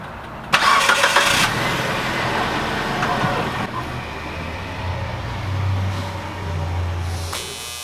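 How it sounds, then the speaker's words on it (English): A car engine cranks and catches, revving briefly, then settles into a steady idle as the car is moved out after an oil change, with a low rumble swelling slightly midway. "Alright Corgi, move the car out."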